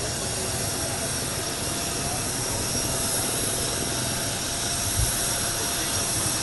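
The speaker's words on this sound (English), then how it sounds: "Look like we got Donald Trump soon to get off of the plane" An airplane's engines drone after arrival with a loud, continuous broadband roar that stays steady and close with no break.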